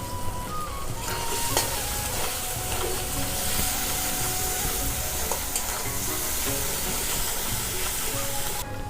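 Mushroom masala with green chilli paste, sugar and two dried chillies sautéing in a pan, a steady close sizzle and fry with stirring scrapes throughout, no talking.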